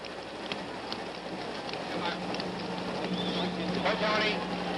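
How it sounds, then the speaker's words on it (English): Rain falls steadily on the Oakland Coliseum during a 1972 baseball game delay, a soft, even hiss of drops that swells slightly toward the end. "So it's been raining now about 22 minutes"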